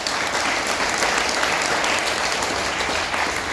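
An audience claps steadily and densely throughout, a sustained wash of applause with no pauses.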